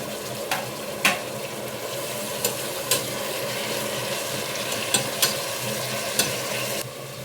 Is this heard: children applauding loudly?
no